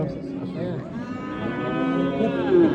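A cow at a livestock market in Bakhmal, Jizzakh lets out one long, loud, close moo that rises toward the end, with no talk over it.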